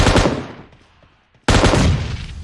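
Loud bursts of automatic fire ring out in a PUBG Mobile scrim: a rattling volley that tails off into near silence, then a second sudden burst.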